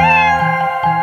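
Cat meowing in a children's animal feeding game: a single loud, close, drawn-out tonal meow with a wavering pitch, heard alone.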